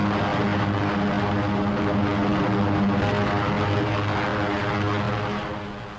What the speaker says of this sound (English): And here are the heavies, giant flying fortresses that drop their tons of high explosives on pinpoint targets